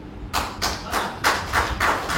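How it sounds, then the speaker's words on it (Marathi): An audience at a Marathi business-plan presentation claps together in a steady rhythm, about seven loud, evenly spaced bursts of applause close by, with no talk over them. "जोरदार टाळ्या"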